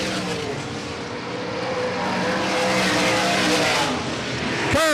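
Ford-powered race car running through a turn at Selinsgrove Speedway during a 1988 race, a loud sustained engine roar with a second car's engine note sweeping past close at the end.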